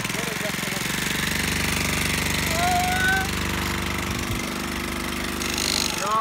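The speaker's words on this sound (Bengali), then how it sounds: "এটা কিন্তু অনেক পুরাতন গাড়ি হলেও প্রতি কিকে কিকে স্টার্ট হয়" An old motorcycle engine running after a kick-start, a steady close chugging drone that holds throughout, with a faint whistle-like tone partway through.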